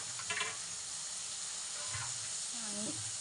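Ground masala of cluster beans, coconut, garlic, ginger and coriander frying in oil: a steady, close hiss of sizzling that runs throughout, with brief bits of talk over it.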